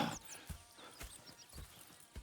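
Horses in the Red Dead Redemption 2 video game: a few soft hoof clip-clops and shuffling steps, spaced irregularly at a moderate distance, with no talk over them.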